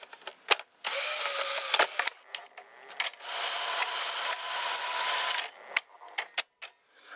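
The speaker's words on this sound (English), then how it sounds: "on this VCR it instantly loads the tape when I insert it" Sony or Sanyo Betamax VCR threading a tape: two sustained mechanical whirring runs of the loading motor, bracketed by sharp clicks and clunks from the solenoid and gears, close and distinct.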